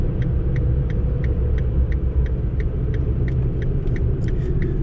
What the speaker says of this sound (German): So, das ist jetzt eine Situation, wo ich in den vierten Gang gehe